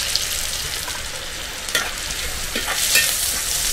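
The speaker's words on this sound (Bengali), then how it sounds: "এবার একটু সরষে আর জিরে একসাথে আছে দিয়ে দেবো।" Mustard seeds and cumin sizzling in hot oil in a pan for a semolina and potato breakfast dish, giving a dense, close crackle with brief pops and no voices.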